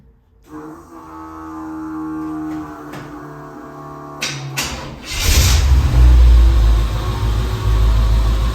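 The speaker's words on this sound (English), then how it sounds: "I gotta flip the fuel pump on, so that's gonna be the noise y'all hear" Electric fuel pump on a Chevrolet El Camino SS hums with a steady whine for several seconds before the engine cranks and fires, bursting into a loud, rumbling idle close by.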